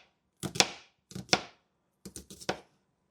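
A knife chops vegetables on a board in a home kitchen, making crisp, sharp strikes in small irregular clusters of two or three separated by short pauses, close and fairly loud.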